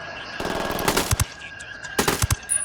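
Bursts of turret machine-gun fire in the Ghost Recon Wildlands video game, two rapid strings of loud shots with heavier thuds at their ends, separated by a brief lull.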